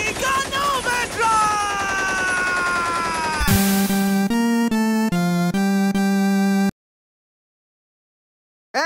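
A comedic tommy gun sound effect in an anime parody: after a shouted voice, a rapid run of loud, clipped, stuttering bursts fires for about three seconds, then cuts to silence.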